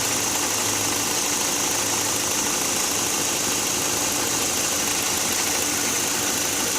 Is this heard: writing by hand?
no